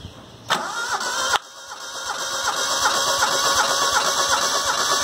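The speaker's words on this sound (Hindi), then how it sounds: "अब मैं तीसरे सिलेंडर के जो है वो कंप्रेशन टेस्ट कर रहा हूँ।" A car engine cranks on the starter during a cylinder compression test, with a steady, rapid rhythmic churning up close. It begins after a sharp click and continues without pause to the end, with no talking.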